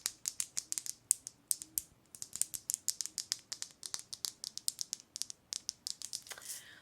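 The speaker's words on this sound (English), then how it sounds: "We have here our butterfly rattle." A butterfly rattle shaken in quick, irregular bursts, dozens of crisp dry clicks and rattles close up in a quiet room, continuing steadily throughout.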